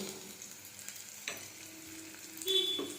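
Chopped onion, garlic, chilli and ginger fry in a hot pan, giving a steady close sizzle with a few soft scrapes and a brief louder burst near the end, with no talking.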